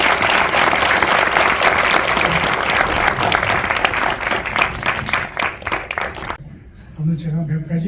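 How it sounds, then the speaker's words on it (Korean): A large audience breaks into loud, sustained applause honouring Korean cinematographer Jeong Il-sung at a Korean Film Archive event. The dense clapping fills most of the clip, then stops abruptly and a voice begins speaking. "다시 한번 큰 박수 부탁드립니다."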